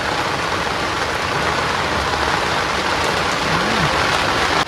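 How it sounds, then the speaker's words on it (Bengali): Steady rain pours down on a boat in the Sundarbans mangrove forest during a monsoon storm, a dense, constant hiss of drops drumming on the surface with no pauses and no voices. "আর এর উপরে হালকা করে একটুখানি পেঁয়াজ কুচি ভাই জল পড়ছে তো ভিতরে"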